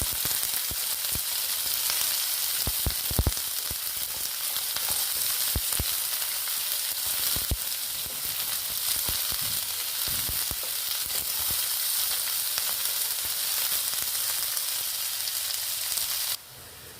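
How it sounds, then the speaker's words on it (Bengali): Onions frying in oil in a pan give a steady, close crackling sizzle, with occasional sharper pops and scrapes of stirring throughout. "পেঁয়াজগুলো দিয়ে দিচ্ছি। দেখো দিয়ে ভেজে নেব।"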